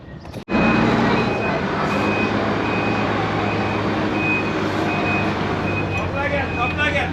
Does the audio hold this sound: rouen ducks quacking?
no